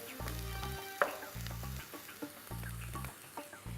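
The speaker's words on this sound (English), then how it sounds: "when the oil gets hot, throw in your onions" Onions fry in hot oil with a close, steady sizzle and crackle, a few sharp pops and utensil clinks as they are moved around the pan, no voices.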